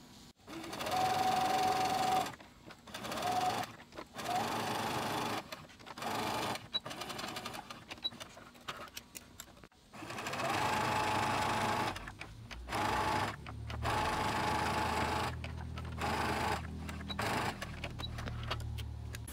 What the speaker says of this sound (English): So I'm going to go ahead and sew these along this edge.